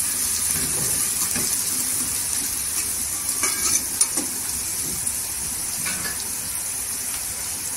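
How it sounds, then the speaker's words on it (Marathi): Garlic sautéing in oil for a dried shrimp curry, a steady moderate sizzle and hiss with a few soft stirring knocks, no talk. "इथे लसूण पण परतून घ्यायची तेलावर।"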